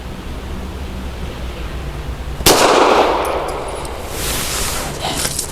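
A single sharp shot from a Walther PDP 4-inch compact pistol cracks out loud and close, then rings into a noisy echo over steady background noise.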